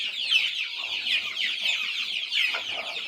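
Three-month-old chickens on a poultry farm cluck and peep in a busy, continuous chorus, close and fairly loud, with no voices over them.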